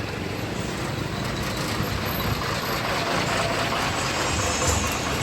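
A truck pulls over on a roadside route from Kolhapur toward Dajipur, its engine rumbling steadily and loudly up close amid broad road noise, with a faint hiss suggesting air brakes.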